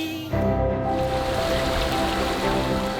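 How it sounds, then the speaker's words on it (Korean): A clear mountain stream in Baekdam Valley in Inje, Gangwon Province, rushes steadily over rocks, a close, continuous splashing wash of water with no voices. "시원한 물소리를 들으며 바닥까지 투명하게 보이는 맑은 백담계곡을 따라 걷다 보면"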